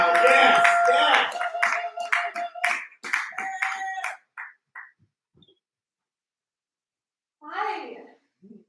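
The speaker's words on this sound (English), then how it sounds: "Let her hear it. Clap right now." A comedy club crowd claps and whoops for a comic, loud bursts of clapping mixed with shouting voices that thin out after about four seconds, then a short burst of voice near the end.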